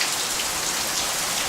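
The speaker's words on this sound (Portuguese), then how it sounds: "Essa chuva vai passar, quando chove forte assim," Heavy rain pours down in a dense, steady hiss of drops hitting surfaces, loud and unbroken, with no voices over it.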